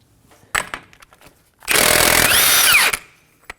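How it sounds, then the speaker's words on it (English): A power tool with a 32mm socket spins off the front axle nut of a 2016-2020 Kia Sorento: a brief loud blip, then about a second of sustained, close, rising motor whine that cuts off abruptly. "Using a 32mm socket,"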